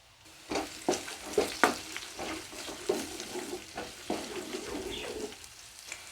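Chopped onion and green chilli fry in two tablespoons of hot oil, a steady sizzle broken by sharp bursts of stirring and scraping, close and alone.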